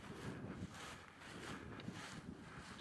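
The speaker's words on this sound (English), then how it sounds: "No noise apart from the wind, which you can probably hear." Wind sweeps across an open moorland hilltop at Burnhope Seat in the North Pennines, where the ground is boggy underfoot. It is a steady, close rumble with gusts buffeting the microphone throughout, and no other sounds are heard.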